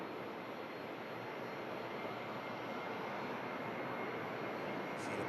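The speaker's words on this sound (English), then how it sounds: "There is an aircraft on finals." A jet airliner on final approach at Manchester Airport gives off a steady, broadband engine roar, moderately distant and unbroken, with no voices over it.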